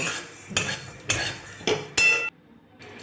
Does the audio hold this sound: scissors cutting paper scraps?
no